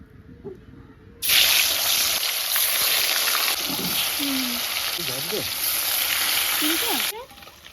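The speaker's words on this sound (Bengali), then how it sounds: "তেল গরম হয়ে গেছে এবার আমি মাছ দিয়ে দেবো" Fish drops into hot mustard oil and a loud, bright sizzle bursts in suddenly, then holds as a steady crackling hiss for several seconds before cutting off, with faint voices underneath.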